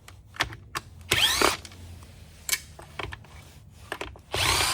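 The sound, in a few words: power screwdriver removing screws from a Shark Navigator vacuum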